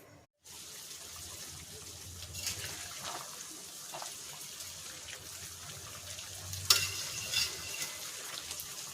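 Mutton being stirred as it fries over low heat in a covered pan, cooked Bihari and Kashmiri style: a steady close sizzle with soft scraping and stirring scrapes, plus a few sharper clinks near the end.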